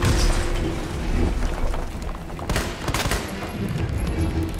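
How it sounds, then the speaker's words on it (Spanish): Loud gunshots in Resident Evil 2 Remake, several heavy reports in a noisy, booming game scene with rumbling low background and clattering mechanisms. "No sé por qué coño le disparo a eso."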